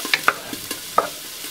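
Bacon strips hitting a hot pan, giving short crackling sizzle bursts with a few sharp pops over a quiet, close background.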